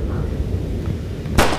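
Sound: gunshot in the video game Resident Evil 4

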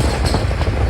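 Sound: train crossing a river bridge

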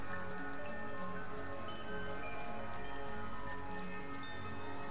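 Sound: rain in the video game DayZ

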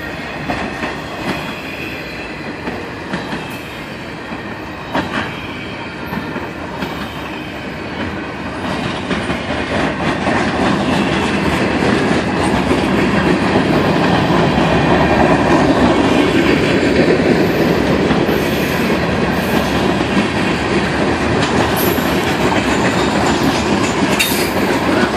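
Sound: Norfolk Southern freight train passing, clickety-clack on rails

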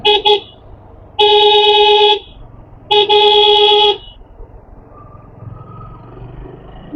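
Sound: car horns honking on road in traffic

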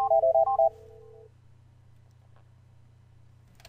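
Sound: NEC SV9100 phone system dialing tones during call transfer

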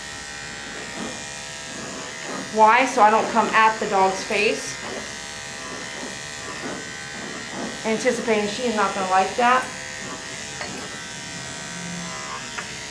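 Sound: electric dog clipper grooming

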